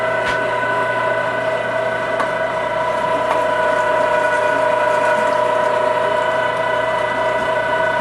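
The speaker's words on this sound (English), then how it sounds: "This is kind of going kind of slow. It's a small grinder." Small electric meat grinder running steadily while grinding wild hog meat for link sausage, a constant loud motor whine and mechanical drone with faint ticking, unbroken throughout.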